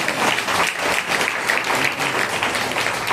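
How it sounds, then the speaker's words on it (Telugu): A large church congregation at a pastor's revival meeting claps loudly and steadily, a dense, continuous roar of hands filling the hall without pause. "గట్టిగా చప్పట్లు కొట్టండి."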